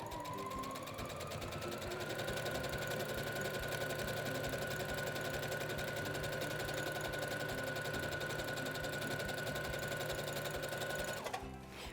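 A sewing machine runs steadily while stitching fabric, a continuous whirring hum with a fast mechanical chatter that holds even for about eleven seconds before stopping abruptly.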